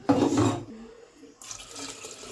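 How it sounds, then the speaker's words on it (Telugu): Two glasses of water poured into a pot for dal on a wood-fired stove: a brief, loud splashing pour that stops after about half a second, followed by faint trickling and hiss. "ఒక 2 గ్లాసులు అయితే వాటర్ అయితే పోసుకుందాం"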